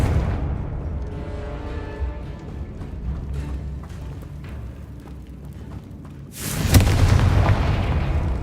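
A Confringo blasting-spell explosion in the Hogwarts Legacy video game: a low rumbling game ambience gives way to a sudden, loud, booming burst near the end that rings on briefly.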